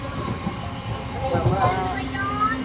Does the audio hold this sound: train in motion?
yes